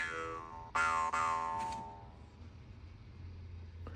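A boxcar jaw harp tuned near low E is plucked, giving twangy, buzzing tones with a sharp strike near the start and a second one shortly after, each ringing and fading over a few seconds, close up and moderately quiet.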